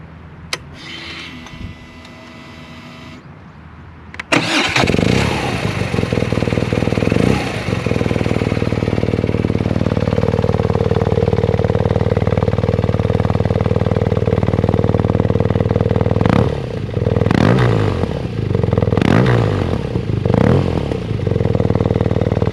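BMW R nineT Racer motorcycle engine cranking and firing up after a few quiet seconds, then settling into a loud, close, steady idle with a few sharp revs and some clatter near the end.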